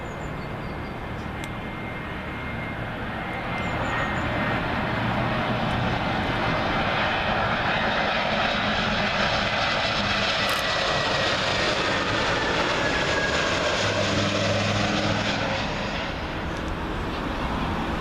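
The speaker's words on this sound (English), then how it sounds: "Arriving up next, Lufthansa A320neo, in from Frankfurt." Lufthansa Airbus A320neo landing at Heathrow from Frankfurt, its jet noise rising to a loud, sustained roar as it passes overhead, then easing slightly toward the end, with no speech.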